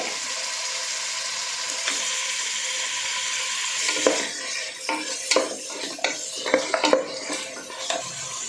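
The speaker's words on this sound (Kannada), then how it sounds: "ಎಣ್ಣೆ ಚಂದ ಕಟ್ ಮಾಡಿರೋಂಥ ನಾಟಿ ಈರುಳ್ಳಿ ಜೊತೆಗೇ ಮಟನ್ ಕೂಡ ಹಾಕ್ತಾಯಿದ್ದೀನಿ" Half a kilo of mutton and chopped country onions fry in hot oil, a steady hiss of sizzling giving way to repeated close scrapes and knocks of a spoon stirring against the pan.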